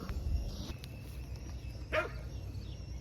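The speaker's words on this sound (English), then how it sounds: "My dogs are in the garden as well, and they are apparently after something." Dogs in a garden chase after something. One short bark stands out midway, with a fainter yip earlier, over quiet outdoor background noise.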